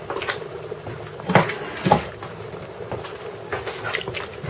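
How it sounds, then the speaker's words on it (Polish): Cold water poured from a glass onto a spoonful of wheat flour for thickening soup, heard as a few soft splashes and gurgles with a couple of clinking knocks, fairly close in a quiet kitchen. "łyżkę mąki pszennej i zaleję to z 1/3 szklanki wody zimnej"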